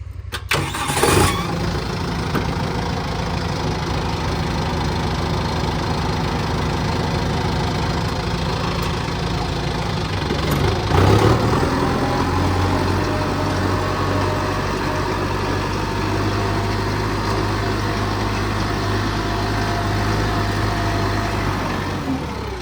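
A farm tractor at a wild horse sanctuary cranks and catches near the start, then settles into a steady, loud idle that runs on with a second surge partway through and no talking.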